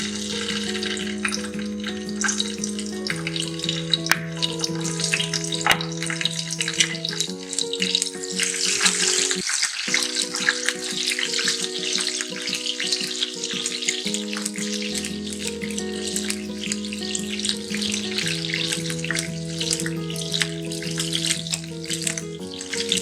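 Steady, crackling sizzle of green chilies frying in hot oil for mutton karahi, continuous and fairly loud throughout with no voices.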